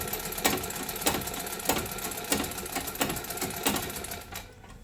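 A sewing machine stitches a picot edge on a saree, its motor whirring with evenly spaced thumping pulses before slowing to a stop at the end.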